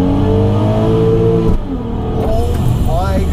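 A supercharged 500bhp Volkswagen Golf R32 engine revving on the throttle, a loud close roar that climbs in pitch, dips, then rises again, with someone talking over it.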